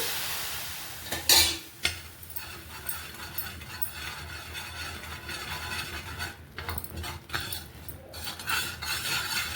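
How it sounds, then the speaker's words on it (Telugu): A ladle scraping and stirring Mysore pak mixture in a pan as hot oil is added, with sizzling, bubbling and sharp metallic clinks against the pan, close up and without talk. "ఈ వేడి వేడి ఆయిల్ ఒక్కొక్క గరిట వేసుకొని కలుపుకోవాలి"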